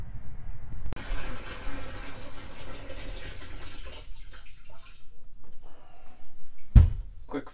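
Fresh water is poured into an RV water tank, a fairly faint, uneven splashing and gurgling fill that tapers off, ending with a few knocks and a thump.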